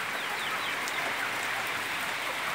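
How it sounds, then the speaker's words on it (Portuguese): Rain falls steadily on a free-range chicken farm, a constant soft hiss of drops with occasional faint hen clucks mixed in, moderately quiet and even throughout. "pela chuva que cai nesse momento"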